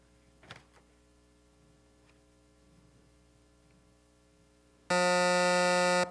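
A quiz buzzer at an academic bowl: after a few quiet seconds with faint ticks, a loud, harsh electronic buzzer blares at the end and keeps sounding.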